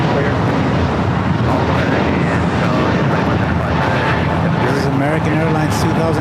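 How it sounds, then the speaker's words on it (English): An American Airlines A321neo jet bound for Las Vegas at LAX gives a steady, loud engine roar that fills the whole stretch, with voices talking over it. "2 going to Las Vegas on an A321neo"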